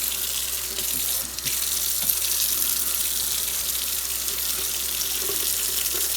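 Steady water from a kitchen faucet runs into the sink while a blender jar is washed with a sponge, a continuous near hiss with slight splashing shifts throughout.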